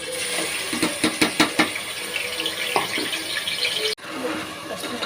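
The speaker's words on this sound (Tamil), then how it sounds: "மட்டன் வந்து முதல்ல கழுவிடலாம்." Mutton being washed under a running kitchen tap, steady gushing water with splashes and a few knocks against the sink, loud and close.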